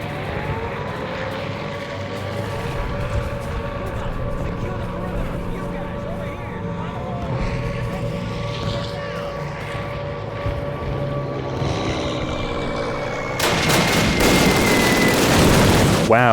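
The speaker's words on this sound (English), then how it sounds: "it's starting to get loud. Planes, paratroopers, and air raid sirens." Aircraft engines roar in a Call of Duty: United Offensive battle scene, a steady loud droning hum that swells abruptly into a harsher, louder rumble near the end.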